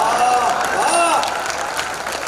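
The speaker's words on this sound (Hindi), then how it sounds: "और अब आपकी तालियां चाहूँगा" Audience clapping fills the hall at a comedy poetry show during Ballia Mahotsav 2024, a loud, steady wash of applause from a large crowd with a voice carrying over it.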